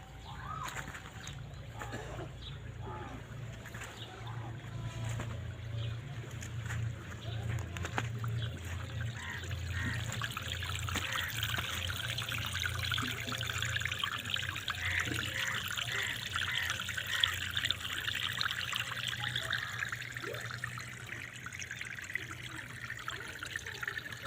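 Water sprayed over a bed of spinach plants, a steady soft hiss and trickle that runs throughout, with faint birds in the background and a low hum underneath.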